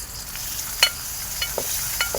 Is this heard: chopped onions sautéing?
yes